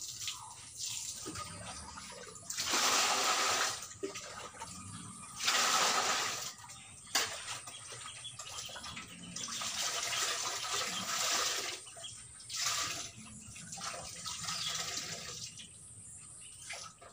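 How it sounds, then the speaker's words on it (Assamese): Water splashing and pouring in bursts as clothes are washed by hand, with repeated surges of running water and sloshing between quieter gaps, close and moderately loud. "কাপোৰকেইটা ধুই লওঁগৈ"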